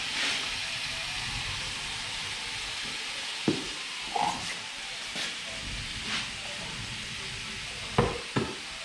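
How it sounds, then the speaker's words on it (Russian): Meat for plov sizzles and fries in a pot over an outdoor wood fire on a winter evening, with a steady hiss broken by several sharp scraping clicks as it is stirred, close by and without talk. "чтобы мясо выкипало жидкость и прожарилось"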